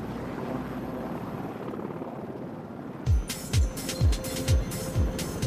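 A steady engine drone gives way to rhythmic, thumping rotor blades chopping loudly and evenly as a military helicopter passes close.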